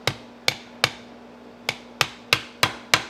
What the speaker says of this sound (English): just start gently tapping it and peening it over